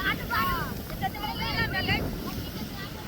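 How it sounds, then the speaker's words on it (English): Gusty wind rumbles steadily against the microphone outdoors, with children's voices and laughter faintly in the distance. "You can hear some wind right now"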